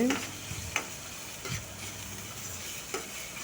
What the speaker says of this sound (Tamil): ஒரு கொத்து கருவேப்பிலைங்க அதையும் சேர்த்து நல்லா மிக்ஸ் பண்ணிடலாங்க பாருங்கள் வெங்காயம் நல்லா வதங்கி வருது